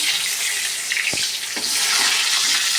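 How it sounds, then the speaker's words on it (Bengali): Eggplant slices frying in oil in a pan, a dense continuous close sizzle with a couple of brief clinks of a utensil, no talking. "বেগুন ভাজা করছি"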